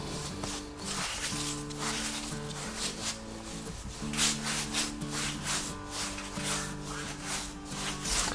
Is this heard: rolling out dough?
yes